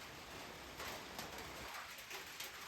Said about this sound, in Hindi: ये मेरे सामने नदी है और तेज़ हो गई बारिश